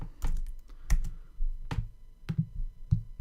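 Quick bursts of typing on a computer keyboard entering a comment in project management software, irregular clusters of close, crisp key clicks with short pauses and no talking.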